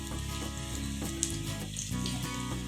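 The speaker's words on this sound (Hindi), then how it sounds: "गोल्डन ब्राउन होने तक हम प्याज को फ्राई कर लेंगे।" Chopped onions frying in a pan toward golden brown, a steady crackling sizzle with faint spatters and light stirring, close and continuous without talk.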